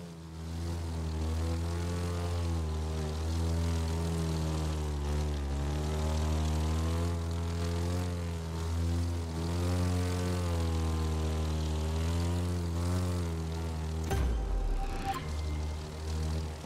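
A propeller airplane engine in the racing game The Crew 2 drones steadily and loudly with slight pitch wavering, then ends in a sudden noisy burst.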